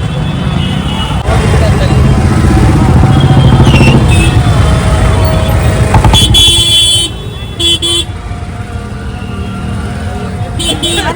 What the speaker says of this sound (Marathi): आवाज सध्या इथं गाड्यांचा भरपूर येतो